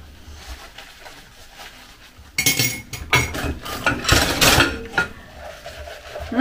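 Plates and cutlery clink and clatter in a sink with splashing water, irregular close-up knocks of dishes being washed.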